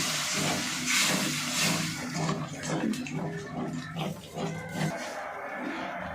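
Masala spice paste sautéing in a pan while cooking matar malai paneer, a close, continuous hissing sizzle with soft stirring scrapes that eases off near the end.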